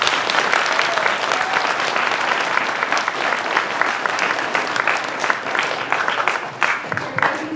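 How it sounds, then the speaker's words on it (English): Loud, sustained applause from an audience at a sixth-grade school opera performance, dense clapping with scattered sharp individual claps and a few voices near the end. "Round of applause."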